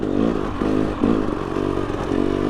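An off-road motorcycle crawls over rocks in second gear, its engine a steady, loud, close drone that pulses slightly as the throttle rises and eases, with faint scraping and clatter underneath.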